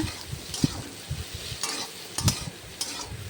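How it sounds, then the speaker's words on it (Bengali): Soybeans fry with egg in a pan, a steady soft sizzle broken by irregular scraping stirs and a few sharper clinks of the spatula, close and fairly quiet. "সোয়াবিনগুলো ভেজে নিচ্ছি একটু ভালো লাল লাল করে ভেজে নেব"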